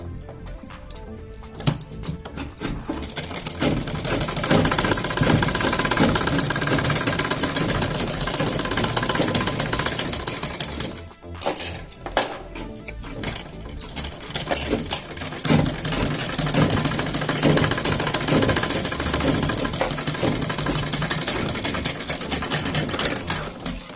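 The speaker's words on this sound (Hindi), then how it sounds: "यहाँ पे हम साइड पे एक सिलाई लगा देंगे।" Sewing machine running a side seam on a kurti, loud and close, its motor hum and fast needle clatter continuing for long stretches, with one brief pause near the middle before stitching resumes.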